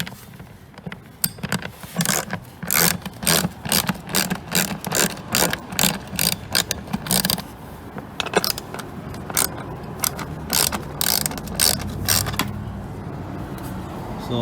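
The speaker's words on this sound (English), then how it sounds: "To do that, I'm going to use an 8mm wrench." An 8mm ratchet wrench loosening bolts on the engine cover of a Mercedes GLK250, loud close rapid clicking in repeated bursts, with metallic rattles and clinks between strokes.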